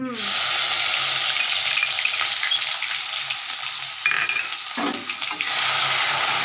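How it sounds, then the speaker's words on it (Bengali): Garlic hits hot oil in a pan and sizzles loudly and steadily up close, with brief stirring clatter partway through and no talk. "তা তেলটা দেখো আমার গরম হয়ে এসছে। তা আমি এটার মধ্যে না, আর এটাতে আমি আগে একটু এই রসুনটা দেবো।"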